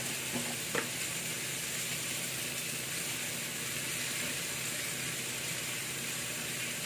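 Potatoes fry in a pan on an Indian home stove, giving a steady, even sizzle that holds at one level throughout, with a couple of faint clinks early on.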